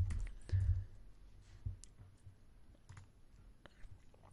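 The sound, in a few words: typing on a computer keyboard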